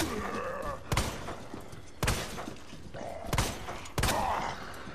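Four sharp, loud gunshots spaced about a second apart in the survival horror game Resident Evil 2 Remake, each a sudden crack over a low background of game ambience.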